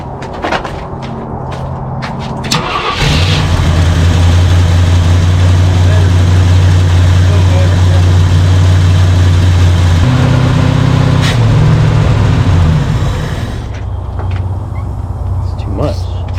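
A junkyard 1968 Ford F100 engine cranks and catches after a couple of seconds, then idles with a loud, steady low rumble for about ten seconds before it drops away, with some clunks and voices around it.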